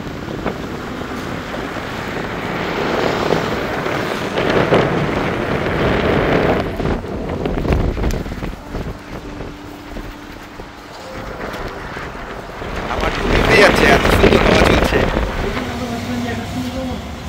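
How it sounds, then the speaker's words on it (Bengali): Wind blows across open water by a river, rumbling and buffeting the microphone in gusts that swell and fade, with a voice speaking at times underneath. "একটা হাওয়া চলছে, হাওয়ার আওয়াজটা নিশ্চয়ই আপনারা শুনতেই পাচ্ছেন।"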